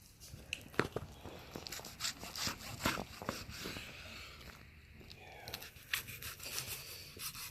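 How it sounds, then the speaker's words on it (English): A knife cuts through smoked paleo baby back ribs from an ugly drum smoker, slicing between the bones in a series of soft, close tearing and scraping strokes, quiet and intermittent. "We'll cut in between these two bones."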